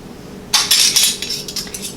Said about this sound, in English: And then we're going to place our lids.